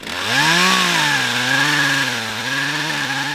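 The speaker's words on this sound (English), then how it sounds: "His coworker Drew Dabalier took a chainsaw to the bigger ones." A chainsaw cuts into invasive Callery pear saplings outdoors, a loud steady engine whine with a pitch that rises and dips as the blade bites through wood, running continuously throughout.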